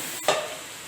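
Cabbage with spring onion stir-frying in a hot pan gives a brief close burst of sizzling and stirring that quickly settles into a steady low hiss.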